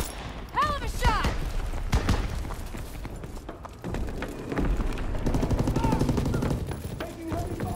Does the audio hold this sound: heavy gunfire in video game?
yes